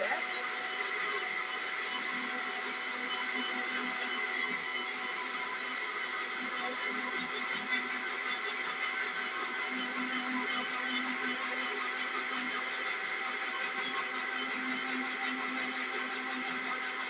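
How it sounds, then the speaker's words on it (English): A kitchen blender purees tomatoes for cooking beef pilau, running as a continuous, steady whirring motor drone throughout at moderate volume with no breaks. "So, blending the tomatoes."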